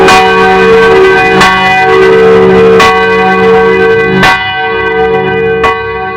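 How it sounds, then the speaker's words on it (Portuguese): Heavy church bells ring in slow succession, five deep resonant strikes with long overlapping hum between them, loud and close. "pareciam mais com enormes sinos de igreja sendo tocados com uma marreta"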